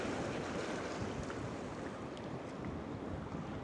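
Sea waves splashing against the rocky Anglesey coast, a steady loud wash of surf mixed with gusty wind noise, continuous throughout with no voices.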